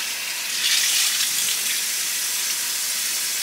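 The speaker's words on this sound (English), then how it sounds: "I'm going to thoroughly rinse." Water running and splashing at a bathroom sink while a face is rinsed after cleansing, a steady broadband wash of close flowing water with slight surges, no talking.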